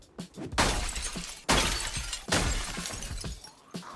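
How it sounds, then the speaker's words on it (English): A window smashed in Project Zomboid: two or three sharp glass-shattering crashes, each followed by a scatter of falling shards, loud and close with no talking. "then smashes a window to get his hands on some ketchup"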